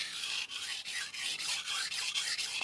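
Knife blade stroked lightly on a 400 grit sintered diamond stone, a rapid series of about a dozen hissing rasping strokes in a steady rhythm, close and alone.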